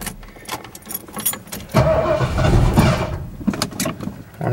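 A 1982 Ford F150 pickup truck engine starts up: keys jangle and click first, then a loud, close burst of cranking catches into a rough roar for about a second and a half before it fades back among scattered clicks and rattles.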